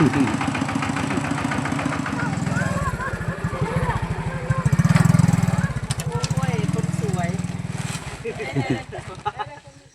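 A farm tractor engine running at idle close by, a steady low rhythmic putter that continues under someone talking loudly throughout.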